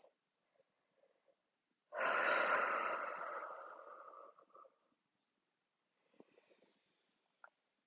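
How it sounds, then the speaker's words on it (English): During a yoga session, one long, deep breath is drawn in and slowly released, close and soft, followed by a few faint rustles and a small click in an otherwise quiet room. "Take a few deep breaths."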